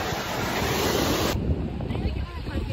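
Ocean surf washes onto a beach in a steady broadband hiss with gusts of wind buffeting the microphone, the roar dropping noticeably partway through.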